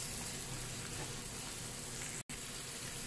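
Onions sauté in a pan for Chettinad chicken gravy, giving a steady, faint, close sizzle that runs throughout, broken by a brief dropout.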